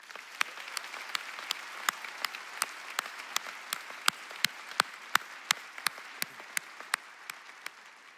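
Sparse, scattered clapping from a few people at a Johnson High School graduation ceremony, honoring the teachers; distinct individual claps ring out in an uneven rhythm over a quiet room, with no voices.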